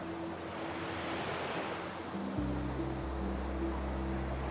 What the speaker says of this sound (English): Let the sound of the wind be something that is happening outside of you, not inside.